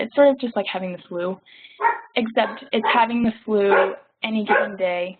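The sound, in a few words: dog barking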